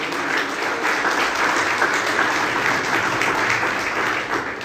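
A church congregation applauds during a Portuguese-language sermon, a steady, loud wash of clapping from many hands with no voices over it.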